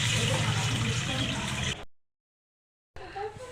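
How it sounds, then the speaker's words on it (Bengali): Water poured into a pan of sizzling tandoori fish curry masala, a loud rushing hiss that cuts to silence briefly, then resumes as a bubbling sizzle. "এবার আমি জল দিয়ে দেবো, পরিমাণ মতন জল দিয়ে দেবো।"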